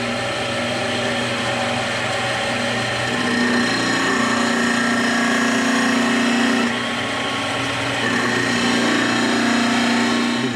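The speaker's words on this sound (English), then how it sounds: "we'll sand that" A power sander works steadily on a wooden longbow limb, a loud continuous whirring grind that holds throughout with slight shifts in pitch and pressure.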